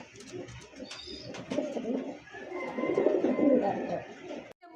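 Lahori pigeon cooing in a bird-selling setting, a soft, steady run of rolling coos that swell louder toward the end, close by with faint background noise.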